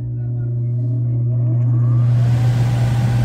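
A furnace blower motor with a failed capacitor struggles and hums loudly, then slowly spins up with a rising whir and growing airflow rush over a few seconds, close and without talk.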